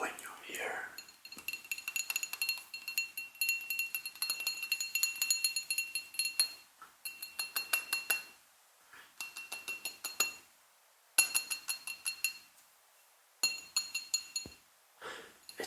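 Thick, heavy whiskey tasting glass tapped by hand, bright clinks ringing in quick rhythmic bursts with short pauses between them, close and quiet, with soft whispering now and then.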